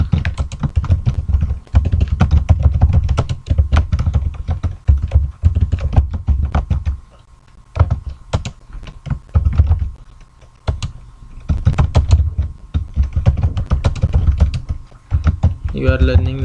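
Quick bursts of keystrokes on a computer keyboard while HTML code is written, close and crisp, with short pauses between runs of typing and a voice speaking in places.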